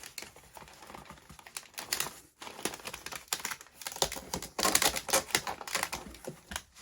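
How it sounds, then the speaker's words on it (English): Packing tape pulled and pressed down around a circular plastic container holding a plant being packed for shipping, heard as a run of crackly, uneven tearing and tapping bursts with short pauses, fairly close and with no talk. "then I'm going to tape it down as well"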